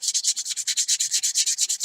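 Steady back-and-forth hand sanding along the edge of a model rocket rotor blade, about ten rhythmic scratchy strokes close up, bright and raspy, with no talking.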